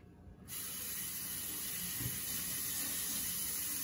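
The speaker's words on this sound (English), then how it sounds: "I'm going to give my board a rinse." A kitchen tap bursts on abruptly to rinse a cutting board, then runs as a loud, steady, hissing spray of water with a faint thud partway through.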